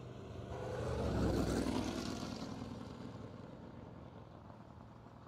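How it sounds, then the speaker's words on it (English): A drag race car idles down the track at a Million Dollar Race, a low engine rumble that swells over the first second or two and then slowly fades into the distance. "Ulmer going to idle it down the track."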